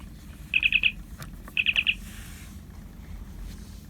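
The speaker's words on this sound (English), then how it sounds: "You can hear it make the little beeping sound" Two quick bursts of four short, bright electronic beeps from a The Wand Company Bluetooth communicator, opened and sitting on its cradle, with the bursts about a second apart over a low background hum.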